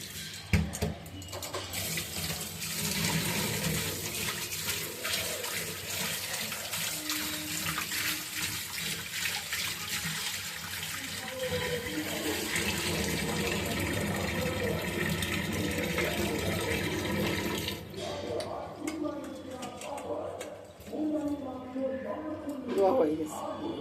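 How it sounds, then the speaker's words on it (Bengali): Water runs steadily from a tap as large fish are washed in a kitchen sink, a continuous splashing stream with handling noises, and people talk intermittently over it. "আজকে বাজার থেকে একবারে বড় বড় গুল্লা মাছ নিয়ে আসছি। এগুলাকে ভালো করে ধুয়ে নিই।"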